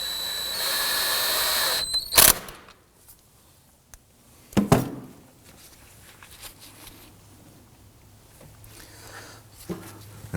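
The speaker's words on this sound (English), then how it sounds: "I'm going to grab my impact gun and I'm just going to snug that" Impact gun snugging a bolt on a 2005-2009 Subaru Legacy during front brake hose work: a short, loud whirring burst near the start, then a sharp clack and a few scattered tool knocks in a quiet garage.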